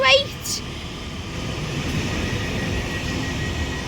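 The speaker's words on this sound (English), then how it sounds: "the train that's in front of me is a Northern Class 195" A Northern Class 195 diesel multiple unit stands at Deansgate station waiting to depart for Windermere, giving off a steady low idling rumble at fairly close range with a brief higher tone at the start and no talk over it.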